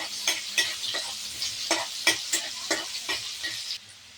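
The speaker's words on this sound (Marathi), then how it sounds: "कांदा चांगला तळून घेऊ." Onion frying in a pan for upma, with a constant sizzle broken by a regular series of sharp scraping stirs, roughly two per second, close and fairly loud.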